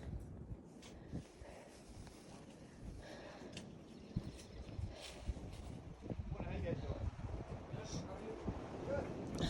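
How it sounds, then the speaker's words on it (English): Wind buffets the microphone in a steady rumbling rush, with gusts building louder toward the end and faint voices underneath. "It's windy up here."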